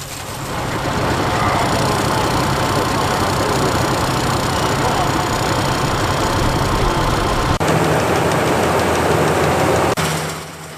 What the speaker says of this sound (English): The tractor for 1945 was this International Farmall H